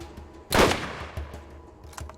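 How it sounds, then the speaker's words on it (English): A single sharp sniper rifle shot in the video game Borderlands, loud and close with a quick decaying tail, followed by a few faint clicks and small thuds. "let's put this new sniper rifle to the test"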